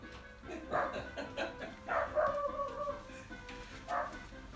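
A dog barks indoors in several short, fairly faint bursts, with a pair of barks near the start and another later. There is a quiet room hum between the barks.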